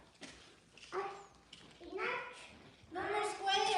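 A dog whimpers and yips indoors in a few short, rising bursts that grow louder toward the end, with a voice nearby.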